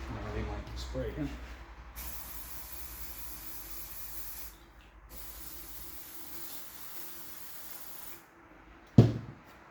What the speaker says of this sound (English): now they want to spray again